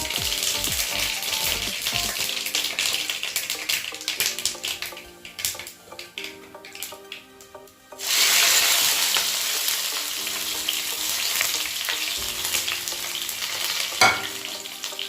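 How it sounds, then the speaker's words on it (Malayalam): Mustard seeds splutter in hot coconut oil in a pan, with a loud, close crackling sizzle that bursts up sharply midway and carries on with scattered pops. "അപ്പോൾ വെളിച്ചെണ്ണ ചൂടായിട്ടുണ്ട് എന്നിട്ട് നമുക്ക് ഇനി കടുകിടാം കടുക് പൊട്ടി കഴിയുമ്പോൾ നമ്മൾ ഈ മുളക് ഇടുക"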